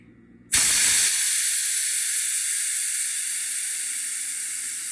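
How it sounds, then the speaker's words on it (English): Air rushes out of a tire valve pressed open with a spoon, starting abruptly as a loud, steady, close hiss that holds for several seconds and fades only slightly. "here's the fun part, letting the air out"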